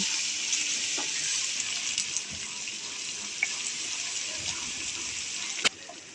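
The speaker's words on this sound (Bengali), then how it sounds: "এবার মশলাগুলোকে একটু ভেজে নেব যেন কাঁচা গন্ধটা না থাকে" Garlic and ginger paste with spices fries in a pan, giving a continuous hissing sizzle that holds steady and close throughout, broken by a few faint clicks and one sharper knock near the end, with no voices.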